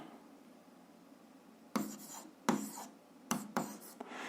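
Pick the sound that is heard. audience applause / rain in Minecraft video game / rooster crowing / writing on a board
writing on a board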